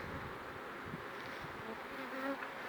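Honeybees fly busily in and out while foraging nectar from spring rapeseed blooming nearby, a steady close buzzing drone with overlapping wingbeats from many insects, continuous and moderately faint throughout.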